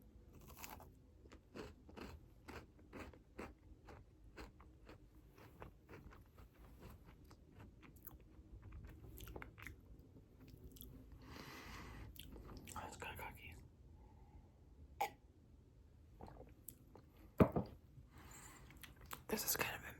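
Crunchy toffee Crumbl cookie with milk chocolate chips being chewed close to the microphone, a steady run of crisp crunches and bites with soft wet mouth sounds, quiet and intimate, with occasional whispering between bites.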